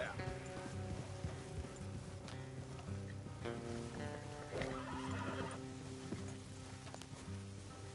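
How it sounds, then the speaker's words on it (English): Horses neighing and hooves clip-clopping in the video game Red Dead Redemption 2, whinnies and hoof steps over faint outdoor ambience, with characters speaking intermittently. "Let's leave the horses here and go the rest on foot."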